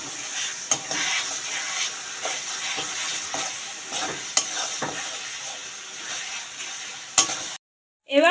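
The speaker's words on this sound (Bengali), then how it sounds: "মশলাটাকে কষাবো।" Spice paste for goat meat curry is sautéed in a pan, with a continuous sizzling hiss, intermittent stirring scrapes and clanks against the pan, close and steady, ending in a brief silence.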